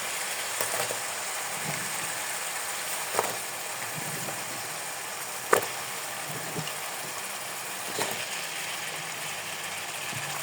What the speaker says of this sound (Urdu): اب ہم اس کو اس مسالے میں اچھی طرح فرائی کر لیں گے۔